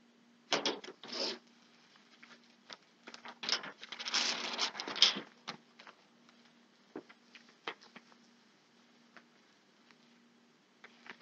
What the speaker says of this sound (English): I'm going to put some gloves on